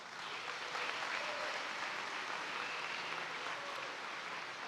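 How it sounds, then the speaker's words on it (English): An audience at a high school graduation ceremony claps steadily, a dense, even round of applause from a large crowd that holds at a constant level throughout. "Let's give him another round of applause."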